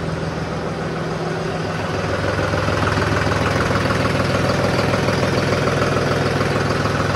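A John Deere 5210 tractor with a heavily smoking engine idles just after starting, a loud, steady diesel rumble with an even mechanical knock that holds throughout, close by and with no talking.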